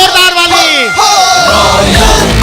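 A crowd at a business-plan presentation roars and whoops, loud and sustained, with rising voices giving way to dense clapping-like noise through the second half.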